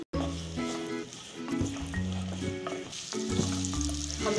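Onions sautéing in oil in a pan, a close, steady sizzle with repeated stirring scrapes, and a faint voice speaking underneath.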